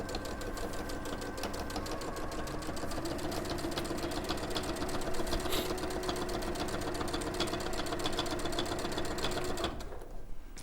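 A sewing machine top stitches a pocket onto a panel in one steady, continuous mechanical whir, close and even, stopping abruptly near the end.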